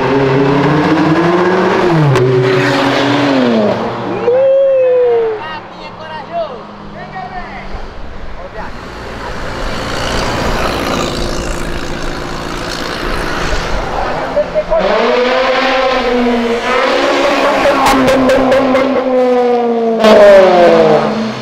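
Cars downshifting and revving hard, engines hitting the rev limiter in bursts, loud and close, with people talking and reacting over the engine noise.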